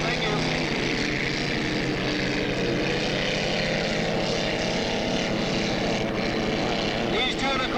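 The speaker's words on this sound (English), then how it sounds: "so we're going to see some rip, roar, and turn as all the good boats are out there running right now" Modified 2 1/4-litre racing hydroplanes, the cracker-box class capable of 125 to 130 mph, roar continuously out on the course, a dense steady engine drone with a rapid pulsing beat and no pause.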